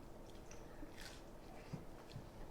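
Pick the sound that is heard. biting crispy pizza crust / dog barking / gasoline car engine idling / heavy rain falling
biting crispy pizza crust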